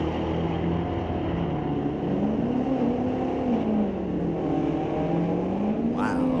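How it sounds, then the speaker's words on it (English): A Datsun with a 355 Chevy engine makes a drag strip run at a raceway, a loud continuous engine roar with rising and falling pitch throughout, heard over an announcer talking on the public address. "this cool little Datsun with a 355 Chevy under the hood"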